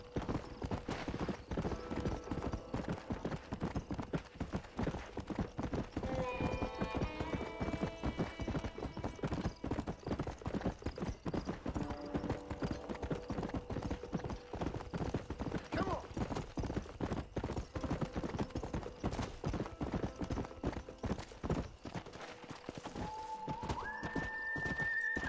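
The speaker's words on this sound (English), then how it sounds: "Let's go, horse." A horse in the Red Dead Redemption western video game gallops with steady rhythmic hoofbeats throughout, snorting and whinnying at times, while a person talks over the gameplay.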